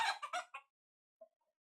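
Breeding pullets give a few short, close clucks in quick succession, followed by one faint cluck after a pause, with no talk over them.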